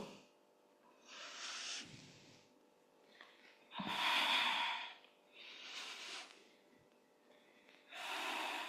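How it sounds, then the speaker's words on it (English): Steady cycles of audible breathing during a gentle exercise routine focused on chest opening, with four broad breathy inhale-exhale swells spaced about two seconds apart, close and fairly loud, with no speech. "Inhale, exhale."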